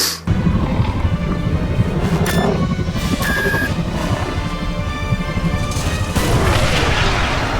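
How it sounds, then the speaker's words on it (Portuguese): Remote detonator bomb in a Predator video game explodes in a loud, sustained booming blast, with rumbling debris and crashing sounds filling the whole stretch and a second surge of blast noise near the end. "um detonador remoto, que é uma bomba que você joga, depois você aperta um botãozinho e a bomba explode"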